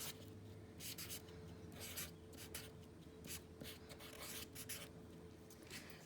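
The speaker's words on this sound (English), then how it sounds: "So I'm going to write the word shorter." A pen scratches out a word on paper in short bursts of strokes with brief pauses between them, quiet and close against a faint background hum.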